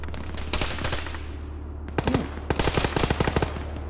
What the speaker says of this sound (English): Is that friendly fire?